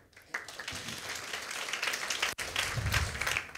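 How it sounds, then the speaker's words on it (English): Audience applause at a live event, a burst of clapping from a crowd that swells and holds steady, with one brief cut in the middle. "Let's give a round of applause to Fresh Diary"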